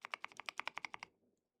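Keychron Q6 Max keyboard fitted with Gateron Oil King V2 switches, with Shift, Control, Enter and Backspace being pressed. About a dozen crisp, evenly spaced key clacks sound close up, then stop into silence.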